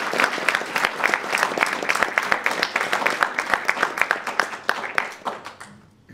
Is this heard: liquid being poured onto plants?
no